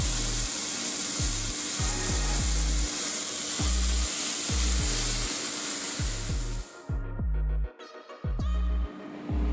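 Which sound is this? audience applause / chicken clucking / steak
steak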